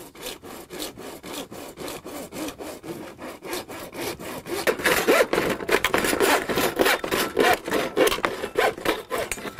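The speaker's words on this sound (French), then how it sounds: "J'utilise une scie spéciale pour PVC" A fine-toothed PVC saw cuts through a plastic gutter in rapid back-and-forth strokes, starting light and growing louder and rougher midway, close up with no talking.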